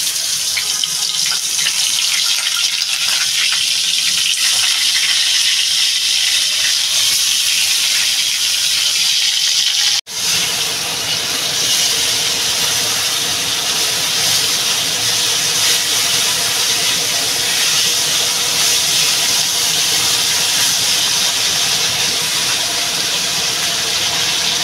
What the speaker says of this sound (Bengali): তেলটা আমার গরম হয়ে গেছে, মাছ দিয়ে দেবো।